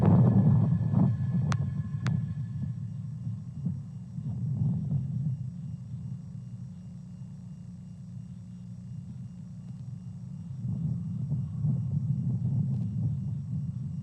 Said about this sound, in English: successful liftoff of Falcon 9 from Space Launch Complex 4 East at Vandenberg